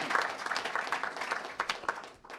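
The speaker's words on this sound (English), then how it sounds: "join me in giving them a round" A conference audience at a panel event applauds, a brief burst of many hands clapping at moderate distance that thins out and fades within a couple of seconds.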